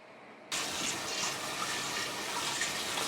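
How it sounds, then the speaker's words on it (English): Yellow split peas being washed under running water, a steady close rush of water that starts abruptly and continues evenly to the end. "about 2 cups of the yellow split peas, and we've got to wash that now"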